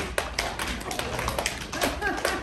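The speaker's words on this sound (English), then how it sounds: "So first we clap 2 with one hand" Audience at a showcase clapping a two-against-three rhythm, a dense irregular patter of many hands with uneven accents, close and fairly loud, with a voice talking over it.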